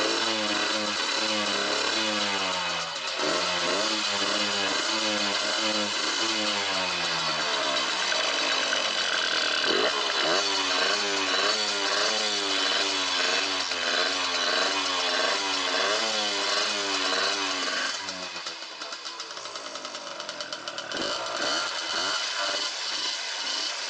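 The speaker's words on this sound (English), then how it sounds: "I'm going to start the bike" A cold Suzuki RMX 50 two-stroke dirt bike engine running without its air filter, buzzing loud and close in a rough, uneven idle that swells and dips, fading lower near the end, with no voices.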